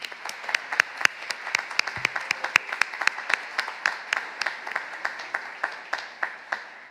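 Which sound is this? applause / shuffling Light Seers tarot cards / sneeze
applause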